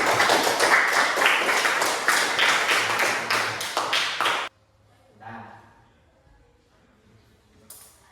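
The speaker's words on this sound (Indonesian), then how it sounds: "Tepuk tangan untuk kita semua." A classroom of students applauds together in rapid, loud clapping that stops abruptly after about four seconds, followed by near silence with a brief murmur of voices.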